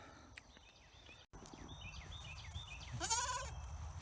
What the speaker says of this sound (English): That's the 2 goats that we bottle fed.